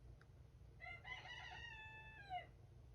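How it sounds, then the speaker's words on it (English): A backyard rooster gives a single drawn-out crow of about a second and a half, quiet and somewhat distant, over a low background hum with no talk. "My chickens like to out-talk me, okay? So excuse them."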